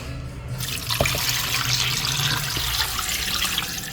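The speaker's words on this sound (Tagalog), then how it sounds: "Kalagyan natin siya ng tubig." Water runs steadily from a tap or is poured over beef in a pot for kare-kare in a home kitchen, a continuous close splashing wash with a few brief clinks.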